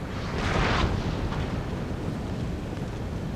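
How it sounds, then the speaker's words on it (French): Enemy artillery fire in a Napoleonic-era battle in the strategy game Napoleon Total War, heard as a broad, rumbling cannon boom that swells early and then fades into a steady low battlefield roar. "On voit donc que je me fais attaquer par l'artillerie ennemie."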